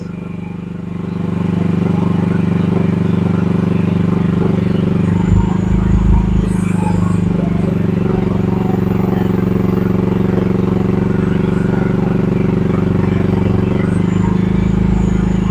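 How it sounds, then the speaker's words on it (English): Chinese gasoline-powered 1-ton mini excavator swinging its side boom, a steady loud engine drone with clattering hydraulics running continuously after a quiet start. "To operate the side spin boom, we will hold the button on the left lever and go left and right."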